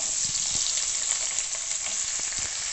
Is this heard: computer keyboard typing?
no